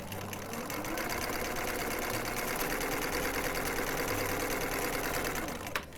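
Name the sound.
sewing machine stitching wide zigzag on knit fabric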